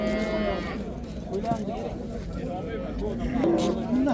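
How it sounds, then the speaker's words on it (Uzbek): A cow lows at a busy livestock market in Qalqama, Chiroqchi district, giving a few drawn-out moos close by while people talk over the crowd noise. "Joydari sigir."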